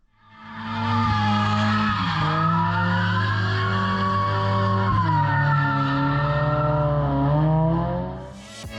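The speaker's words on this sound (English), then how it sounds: "Drifting around this little keyhole on this side was a lot easier, lower speed, and easier to manage the car." Stock Mazda Miata drift car sliding around a low-speed keyhole section, engine droning steadily at high revs with sustained tire squeal that rises and dips over several seconds, loud and close, no talking.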